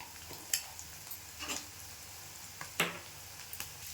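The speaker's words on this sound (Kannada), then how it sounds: "ಈಗ ಇದೆಲ್ಲ ಹಸಿ ವಾಸನೆ ಹೋಗೋವರೆಗೂ ಸರಿಯಾಗಿ ಹುರ್ಕೊಳ್ಳಿ" Egg rice masala frying in a pan while a utensil stirs it, with a steady close sizzle and a few sharp scrapes and clinks scattered through.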